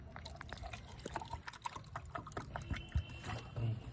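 Water pours onto a potted fruit plant in a quiet trickling splash, close and soft, with a few faint knocks and no clear speech.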